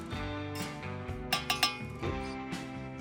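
A fork or other metal utensil clinking against dishware while stirring, with a quick cluster of three bright chimes in the middle and softer scraping taps around it, close and fairly clear over a steady background.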